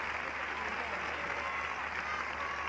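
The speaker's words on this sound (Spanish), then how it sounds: "los aplausos son tan paradójicos como cuando Milei decía en Balcarce 50 no hay plata y la gente lo aplaudía" Steady, continuous applause from a studio or audience crowd, a dense even patter of clapping held at moderate level throughout with no pauses or voices standing out.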